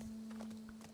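Horse hooves clip-clopping in The Last of Us Part II, a soft, fairly faint steady plodding in cold snowy weather over a low constant game hum.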